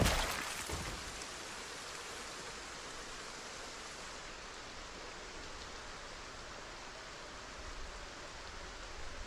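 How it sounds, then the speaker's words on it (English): Steady rain in the zombie video game Echo Creek, a soft continuous hiss of falling water that starts with a brief louder burst and then stays even and faint, with no distinct zombie sounds standing out. "I'm pretty sure there's zombie noises mixed into the rain."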